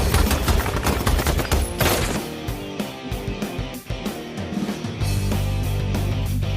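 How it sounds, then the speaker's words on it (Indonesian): A film shootout from American Sniper with dense bursts of gunfire and rapid repeated shots layered over a loud, busy soundtrack, continuing throughout. "Aksi baku tembak masih terus berlangsung."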